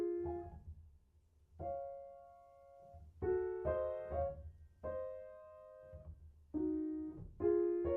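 Solo piano plays Clair de Lune with small slurred groupings, soft sustained notes over a low bass, gentle attacks followed by long decays and pauses between phrases, with no voice.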